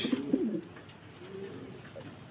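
Pigeons kept for sale coo nearby, a low throaty warble that rises and falls in short phrases, with a softer coo near the end.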